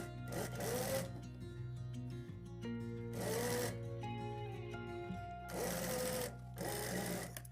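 A sewing machine stitches a trouser hem in long, steady whirring runs, close and even, each stopping briefly before starting again.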